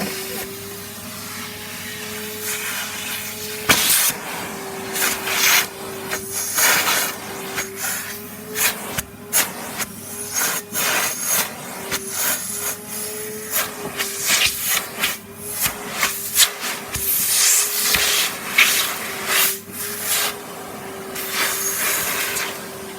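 A Henry vacuum cleaner runs loudly and steadily while vacuuming a very dirty house downstairs, its motor drone interrupted by sucking and rattling surges as debris is pulled in, with no voices.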